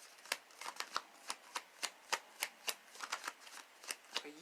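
A tarot deck is handled and shuffled, giving a quick series of about a dozen crisp, close card snaps and flicks at a fairly even rhythm in a quiet room.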